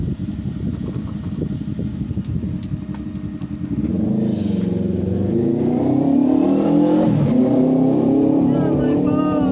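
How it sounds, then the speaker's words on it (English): A motorbike passes outside a van, its engine rising from a rough low rumble into a louder sustained droning whine with shifting pitch, fairly near and dominating the scene. "I think it was a motorbike."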